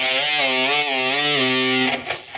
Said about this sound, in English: Without a pinch harmonic, it sounds like this.